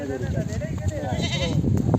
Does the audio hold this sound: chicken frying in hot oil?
no